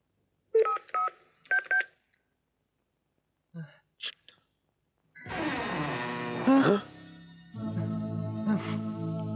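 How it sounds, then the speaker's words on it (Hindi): Telephone keypad tones beep in two quick clusters in a Hindi horror film scene, clear and close, followed by a few brief sounds and then a busier stretch of voices and background score. "एक काम कर, तू रीटा को जल्दी से फोन कर"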